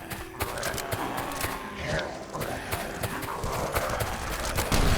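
In the survival video game Last Island of Survival, a horse's hooves clop in quick repeated beats, with a brief neigh mixed among game sounds and someone talking over it.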